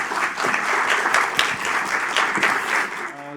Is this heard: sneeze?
no